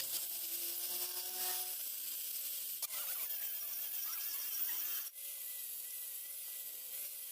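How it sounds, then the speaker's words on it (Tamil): A flap disc on a power tool sands a wooden paramotor propeller to a finish, giving a whining motor tone over an abrasive rubbing rasp, with brief dips as the disc lifts off the wood. "இது நம்ம பிளாப் டிஸ்க் போட்டு தான் ஃபினிஷிங் கொண்டு வர மாதிரி இருக்கும்."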